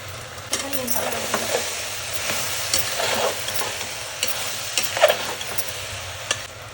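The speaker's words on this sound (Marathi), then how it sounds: "बेसन आता थोडंसं भाजू द्यायचं आहे आपल्याला, यामध्ये असं हलवून।" A spoon stirs gram flour being roasted with peas and potatoes in a pan for pav bhaji, giving soft scraping strokes and light clinks over a steady low sizzle, close up, with no voices.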